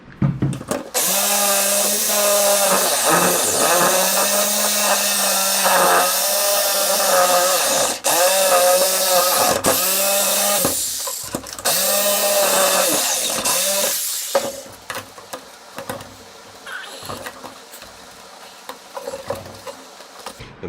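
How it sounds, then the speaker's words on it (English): A jigsaw cutting out an access hatch in a lighthouse model build, a loud steady buzzing whine with brief stops, cutting out after about fourteen seconds, then quieter handling clatter. "And then we'll use the jigsaw to jig it out."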